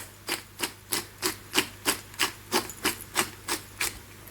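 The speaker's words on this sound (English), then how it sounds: "So a good few grinds of pepper." A hand pepper grinder cranked over a pot of stew being built with red wine, bay leaves and herbs: about twelve evenly spaced, crisp rasping grinds, close and clear, with no talking.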